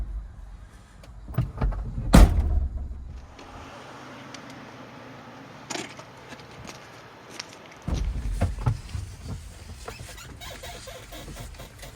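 A truck door swung shut during an air-brake test in Massachusetts, with a loud thump and rattle near the start, then quieter footsteps and cab handling noises before a second clunk.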